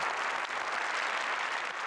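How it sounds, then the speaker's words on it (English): Spontaneous applause with scattered yelling from a crowd at a public meeting, a dense steady wash of clapping that holds at an even level throughout. "the crowd moved into spontaneous eruption of applause and yelling"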